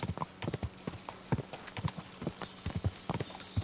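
Horse galloping in the video game Kingdom Come: Deliverance II, rapid rhythmic hoof clip-clops at close range, steady and continuous with faint background ambience.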